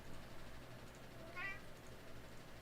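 A cat meows once, a short, fairly faint call rising out of low background hum and room noise, with no speech.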